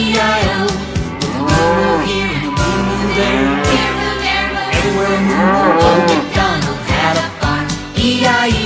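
Mooing cow sounds set to loud music in a children's farm song, repeated low bovine calls over instruments and a steady beat.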